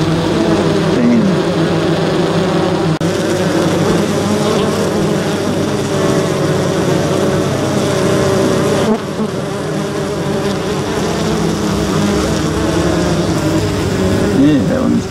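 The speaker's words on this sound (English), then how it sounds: "I get a good close up of this bee fanning." Honey bees fan their wings at a small hive entrance in hot weather, a dense, steady, close buzzing drone throughout, with a person speaking faintly over it.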